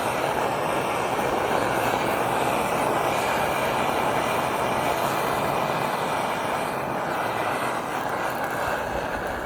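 An MSR XGK EX camping stove burner roars close up with a loud, steady, broadband jet-like rush that holds unbroken throughout, no voices.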